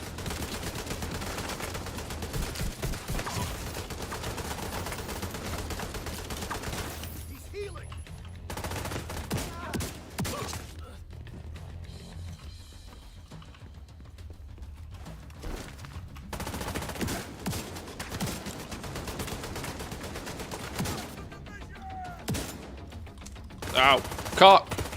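A big gun firing in a video game, sustained bursts of rapid gunfire running for long stretches with brief lulls, mixed with game effects and a voice talking over it.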